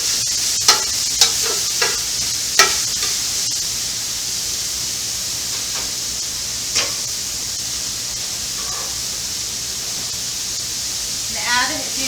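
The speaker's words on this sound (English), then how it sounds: "stir fry them all together a little bit" Vegetables are stir-fried in a pan with sage, a steady bright sizzle running throughout, broken by a few sharp clinks and scrapes of the utensil against the pan, mostly early on.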